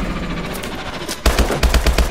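Machine gun fire in Call of Duty: Advanced Warfare, a steady background of distant gunfire giving way to loud, close automatic bursts with heavy booming low thumps in the second half.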